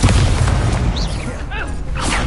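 Confringo blasting curse fired in the game Hogwarts Legacy, a loud booming burst with whooshing swishes layered over continuous game noise and a brief voice.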